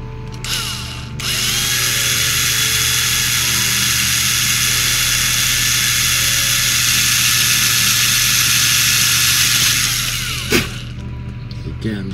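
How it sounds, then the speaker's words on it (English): A power drill whirs loudly and steadily for about nine seconds while drilling a plastic model kit, starting abruptly and winding down, with a brief knock near the end. "now we'll use the drill."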